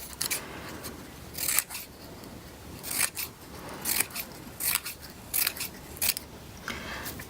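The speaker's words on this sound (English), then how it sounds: "Just cut some strips." Scissors cutting strips of paper for a paper ballerina bookmark, a series of close, crisp snipping strokes in irregular bursts with quiet pauses between, no voices.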